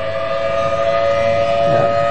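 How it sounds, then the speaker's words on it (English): A loud warning siren holds a steady, sustained wail throughout, near and dominant, with a faint swell toward the end and no voices. "So that's a siren."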